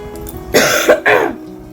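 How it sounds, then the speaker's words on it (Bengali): Someone with a cold coughs and clears a sore throat in a few harsh, close bursts, about three rough hacks within a second before quieting. "ঠান্ডা লেগেছে কাশি গলা ব্যথা"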